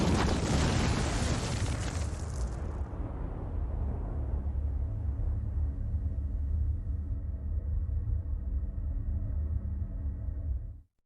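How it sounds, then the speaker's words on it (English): A big C4 blast in a Command & Conquer Nod cutscene, opening with a loud broadband burst that decays into a long, deep rumble lasting about ten seconds. "The C4 in this device will detonate in 5 seconds."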